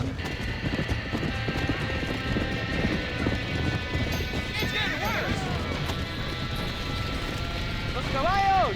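Horses trapped in a burning barn in Red Dead Redemption, with steady clip-clopping hooves and rising whinnies near the end over a crackling, noisy background; voices talk in places.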